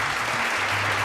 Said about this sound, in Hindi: जोरदार तालियों के साथ खैर मकदम कीजिए हमारे जजेस और मेंटोर्स का